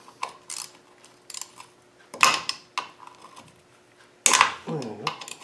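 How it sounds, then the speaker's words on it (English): Small metal clicks and scraping as a little bolt is worked out of a 300Tdi LT77 gearbox, with a few louder clanks and a ratcheting rattle near the end, close by and intermittent. "Take this little bolt out of here."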